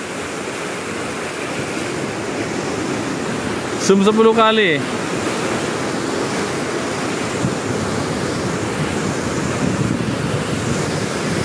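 Ocean waves rolling onto a southern-coast beach, a steady broad wash of surf with wind buffeting the microphone, and a brief spoken remark partway through.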